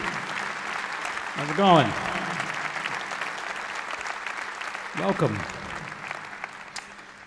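An audience at a live jazz concert claps in steady, moderately loud applause that fills the room, while someone speaks briefly over it.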